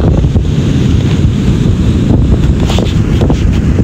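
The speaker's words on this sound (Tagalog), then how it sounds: "dito tayo sa Siargao at ito ang dagat dito, very calm" Calm sea at low tide on Siargao washes against the shore in a low, steady rumble, heavily masked by loud wind buffeting the microphone throughout.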